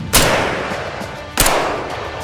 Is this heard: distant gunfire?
yes